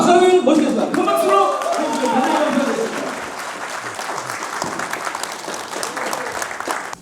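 Indoor audience applause welcoming a guest lecturer at a People Power Party political lecture in Korea, steady clapping from a large crowd, with a voice talking over it in the first few seconds before the clapping carries on alone.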